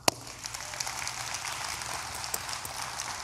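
Steady applause from an audience at a live community talk, a dense wash of clapping hands with a few sharper claps standing out, sustained and fairly even throughout.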